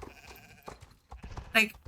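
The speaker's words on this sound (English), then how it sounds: "Oh God, the sheep is in the car." A sheep gives one short, sharp bleat near the end, following quieter stretches of someone talking.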